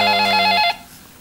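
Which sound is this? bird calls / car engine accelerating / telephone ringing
telephone ringing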